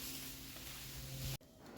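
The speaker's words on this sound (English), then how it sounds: "Start spraying this thing, making it look pretty." Spray gun painting a Mercedes W124 300D, a steady close hiss of paint spray that cuts off abruptly near the end, leaving quieter room tone.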